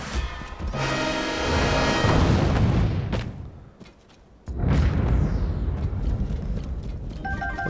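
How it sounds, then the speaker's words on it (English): A giant beast explodes in Zelda: Tears of the Kingdom with a loud booming blast and rumbling debris, followed by a brief lull and then a second heavy roaring burst, with game music underneath. "And a giant explosion of a big beast."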